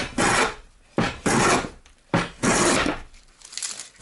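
Three long, loud rasping strokes as a wooden timber piece is shaved down with a hand plane, each stroke close and sharp, with short gaps between and a lighter fourth pass at the end.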